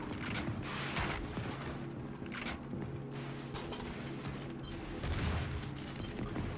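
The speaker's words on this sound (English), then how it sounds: "I hear bullets." Gunfire in the Gears of War 4 beta, a dense burst-laden game mix of repeated bursts and mechanical clatter that runs steadily throughout at moderate loudness, with no talk over it.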